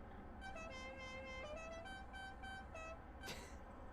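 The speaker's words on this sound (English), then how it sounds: "Someone else has got that horn on the car." Musical, tune-like horn sounding from a Supercars racing car in a sim racing series, a run of several short toots varying in pitch, fairly faint and alone, ending in a brief burst of noise.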